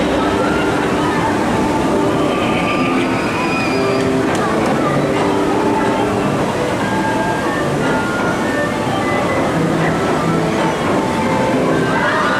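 Water sloshing and splashing from a theme park water ride at Islands of Adventure, a loud continuous rush heard amid busy crowd chatter and people talking nearby.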